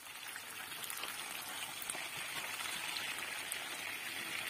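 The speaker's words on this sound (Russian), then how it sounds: "Сейчас мы идем их жарить." Homemade chebupizza frying in oil in a pan, a steady dense sizzle and crackle of spitting fat throughout, close and even, with no talking.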